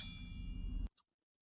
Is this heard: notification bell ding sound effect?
yes